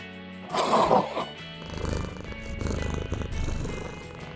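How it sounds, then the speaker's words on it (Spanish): A cat purrs in a steady low rumble that continues for several seconds, following a brief louder sound at the start. "¿Sabes qué animal ronronea?"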